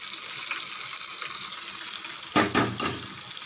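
Hot spice tempering is poured into lemon kara thokku with a brief burst of sizzling over a steady hiss of frying in the pan, close up, with no talk.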